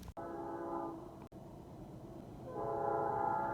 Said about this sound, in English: And of course the train's going by right when I make my video.